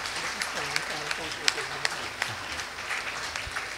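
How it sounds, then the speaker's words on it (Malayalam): Audience applause at a gathering honouring Malpan Fr. Michael Karimattam, fairly faint and mixed with a voice speaking, with a few sharper claps standing out. "കൈയടിച്ച"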